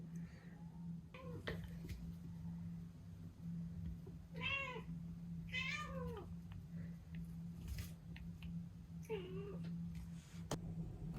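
Domestic cat meowing indoors, several drawn-out meows and short chirps spread across the clip over a low household hum, fairly near and moderately loud.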